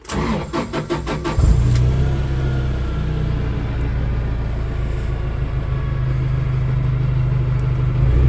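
A Toyota 8FG50N gas forklift engine cranks with a few quick rhythmic turns, then catches and settles into a steady, loud, close idle rumble that continues to the end.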